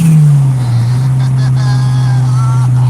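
A Honda GSR engine being tuned roars at full throttle, a steady loud drone holding a strong low tone, with voices talking faintly over the sustained revving.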